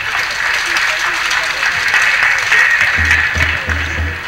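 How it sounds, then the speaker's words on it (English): An audience claps continuously after a speech at a formal event, a dense, sustained ripple of applause with talk heard faintly beneath it. "Please can we give him a round of applause?"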